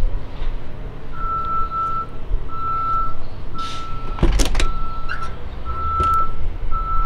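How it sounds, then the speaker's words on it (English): Steady, evenly spaced electronic beeps of a reversing truck over a constant engine rumble, with a sharp clank partway through. "trucks beeping and backing up around here"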